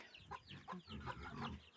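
Hens clucking close by in short, irregular bursts, several birds calling over one another.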